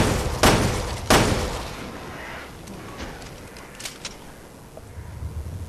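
Gunfire in the video game Resident Evil Revelations 2 during a fight with invisible monsters: two sharp, loud shots about a second apart, followed by fainter scattered pops and ambient game noise.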